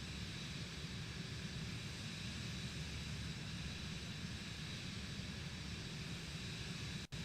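Airplane flying in a flight simulator game at about 150 to 200 knots, a steady broadband engine and wind drone held at constant level throughout, with a brief dropout at the very end.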